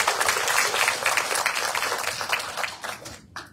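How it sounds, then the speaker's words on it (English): Audience at a lecture breaking into sustained applause, a dense, steady wash of clapping from many hands that thins out near the end. "please give yourself a round of applause for being on that journey."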